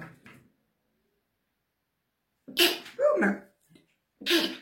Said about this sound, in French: Il va me faire éternuer.